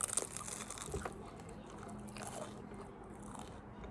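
Close bites into a crunchy cookie during a McDonald's mukbang make a sharp crunch at the start, followed by quieter crumbly chewing and faint crackles, all soft and intimate.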